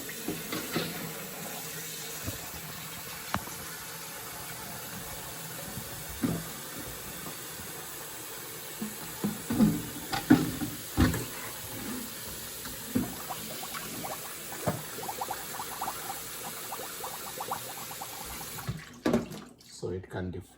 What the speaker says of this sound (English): So I put some warm water in there.